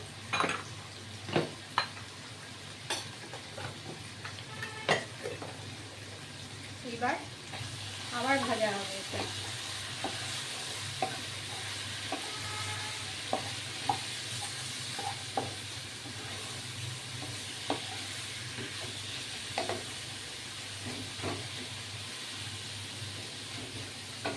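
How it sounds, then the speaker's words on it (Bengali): Garlic chicken spiced with cumin, chili and black pepper powder fries in a pan, giving a steady soft sizzle broken by sharp clinks and scrapes of a spoon stirring, fairly quiet and close. "মাংসে বেশি জল বেরোয়নি হ্যাঁ দেখুন ভাজা ভাজা হয়ে এসছে একটু ভাজা হবে"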